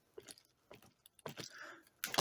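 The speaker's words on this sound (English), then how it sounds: "a couple of people were having issues with the rear differentials clicking on them." A Losi Mini LMT 1/18 RC truck with a faulty rear differential gives a few sharp, separate mechanical clicks and rattles up close, spaced unevenly with quiet gaps between, ending in a louder clatter.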